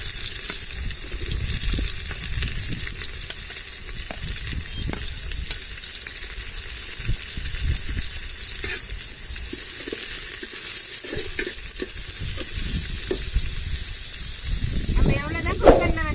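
Onions frying in a pan on an outdoor rooftop stove for Tamil-style tomato rice, a steady loud sizzle and hiss with scattered scraping stirs throughout.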